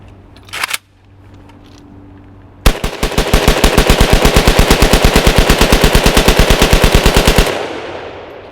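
A gun with a heavily damaged locking lug is test fired, a brief single burst early, then a long rapid automatic string of sharp, evenly spaced loud shots for about five seconds before stopping abruptly.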